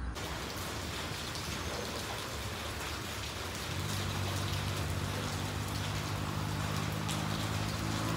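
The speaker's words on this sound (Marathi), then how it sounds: "तर पाऊस आला तर आम्हाला आधार आला" Rain falls steadily in a continuous broadband patter, and a low droning hum joins partway through and keeps going under it.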